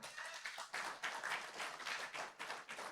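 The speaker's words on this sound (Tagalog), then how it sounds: "Ang hina ng palakpak." A church congregation gives faint, thin applause during a sermon. The scattered clapping continues for a few seconds at low volume.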